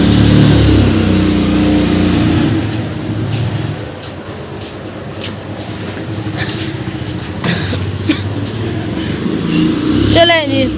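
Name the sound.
car engine as dad drives the car out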